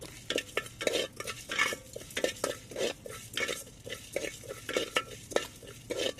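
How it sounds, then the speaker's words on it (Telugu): Coriander seeds, cumin, black pepper, cloves, a piece of cinnamon and cardamom dry-roasting in a pan, stirred with steady, rhythmic scraping and clinking that repeats throughout at close range. "రెండు స్పూన్ల ధనియాలు వన్ స్పూన్ జీలకర్ర చిన్న టీ స్పూన్ మిరియాలు పది లవంగాలు అంగుళం దాచిన చెక్క ముక్క ఒక యాలిక్కాయని వేసుకుని వీటిని కాసేపు వేగనివ్వాలి"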